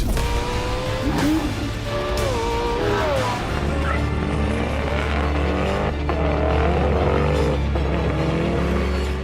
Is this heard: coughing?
no